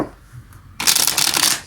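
Tarot cards are shuffled by hand in a quick riffle, a short burst of crisp papery flutter that starts abruptly after a quiet moment and runs close and clear to the end.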